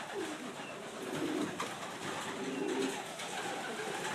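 Racing pigeons coo in a loft before loading for a 200-mile race, soft repeated low coos rising and falling close by over steady background noise.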